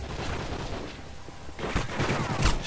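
An MP9 secondary weapon in a shooter game fires in rapid close bursts, a dense crackling rattle that swells louder toward the end, with no speech.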